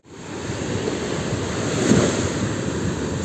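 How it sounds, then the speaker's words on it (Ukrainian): Sea waves surge around a rocking boat on open water, a broad rushing wash with heavy wind buffeting the microphone, swelling toward the middle and staying loud. "Ох, як його качає. На таких хвилях."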